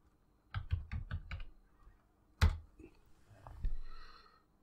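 Five quick keystrokes on a PC computer keyboard, followed by a sharper single key press and a softer tap, fairly close and clear with no talking.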